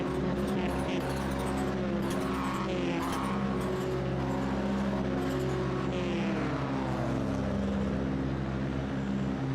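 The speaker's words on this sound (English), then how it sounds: "It's a long hold, waiting for the revs to build up." Rallycross race cars in iRacing at Sonoma Raceway sit on the grid for a last chance qualifier, engines held at high revs with a steady, loud layered drone that builds before launch, with no talking.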